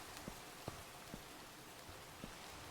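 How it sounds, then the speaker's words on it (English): Rain falling in a Minecraft world, a steady soft hiss with a few faint drop-like ticks scattered through, fairly quiet and with no voices. "I think it's the rain."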